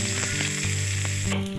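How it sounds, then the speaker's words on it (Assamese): Onions fry in a little oil on a heated tawa, a continuous close sizzle with faint clicking and stirring sounds mixed in, no voices. "আৰু ইয়াতে এতিয়া মই পিঁয়াজখিনি ভাজি ল'ম"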